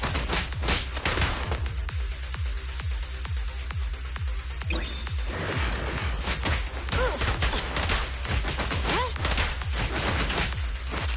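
In the video game Zenless Zone Zero, gunfire rattles off in a rapid string of sharp, punchy shots for roughly five seconds, then breaks into scattered blasts and impacts over a loud, busy game soundtrack.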